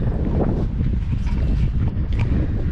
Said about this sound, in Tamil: சில்லுன்னு காற்று வேறு அடிக்குது